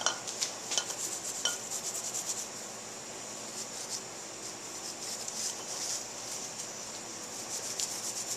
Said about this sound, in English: Scuff it up a little bit so that the new pads have something to bite into.